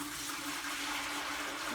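Water gushes steadily into a jug, a continuous close splashing pour with a slight rising fill tone, no voices.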